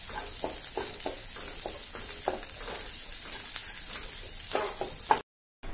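Onion, green chili, garlic and ginger sautéing in a pan give a constant sizzle broken by rhythmic spatula scrapes about every half second, ending abruptly in a brief silence.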